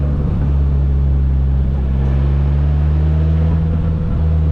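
A loud, steady engine drones with a constant low hum and road roar from a 2022 Polaris Slingshot SL, an open three-wheeled car with no roof or doors, cruising without let-up and no voices.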